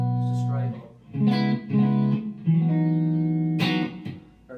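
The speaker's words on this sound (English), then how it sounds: "Very honest, clean bit of reverb." A clean electric guitar rings out through a Marshall CODE amp, sustained chords and single notes with a wash of reverb, played alone.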